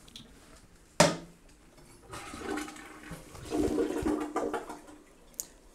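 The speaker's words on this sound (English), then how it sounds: "Oh, it's one of those water-saving flushes." Water-saving toilet in a Las Vegas hotel room flushing with a sharp click of the handle, then a short, gurgling rush of water that trails off quickly, close and fairly quiet.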